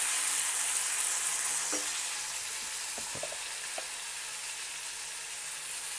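Chutney ingredients with chopped tomato cooking down in a pan, a steady broad sizzle that fades slightly, with a few brief utensil taps partway through, close and without speech.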